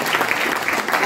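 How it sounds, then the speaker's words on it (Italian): Applause from the audience at a young entrepreneurs' event, a thick, continuous burst of clapping with some crowd murmur, loud and brief. "vi chiedo un applauso per Davide."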